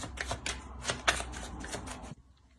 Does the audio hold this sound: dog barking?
no